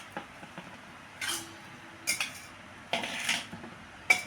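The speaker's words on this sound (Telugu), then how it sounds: "దీంట్లో ఇందాకలాగే కొంచెం నూనె వేసి కలిపేస్తాను" Spoon stirring mango pickle in a metal bowl after peanut oil goes in, several scraping, clinking bursts spaced a second or so apart, fairly close with no talking.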